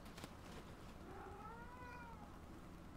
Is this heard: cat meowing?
yes